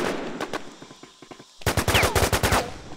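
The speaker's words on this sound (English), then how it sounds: "people are shooting down that long hallway" Gunfire in the video game War Inc Battlezone, a few scattered shots followed by a loud rapid automatic burst echoing down a long hallway.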